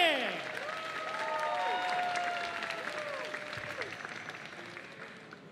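Audience applause and crowd noise fill a convention hall at Maple Con LA 2025, a sustained wash of clapping from many people that swells then slowly tapers, with bright tonal chimes and stage sounds layered over it.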